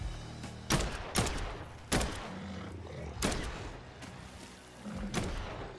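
Gunfire in the video game Dead Island 2: five loud, sharp shots spaced irregularly about a second apart, each with a short booming tail, over a steady low rumble of game ambience.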